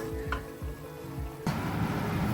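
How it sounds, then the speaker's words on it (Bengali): Spice paste for a small-fish chorchori frying in oil, a brief close sizzle that swells suddenly into a dense, crackling hiss partway through, with no talking. "মশলাটা খুব ভালো করে ভাজা ভাজা হয়ে গেছে, তেলও উঠে এসেছে।"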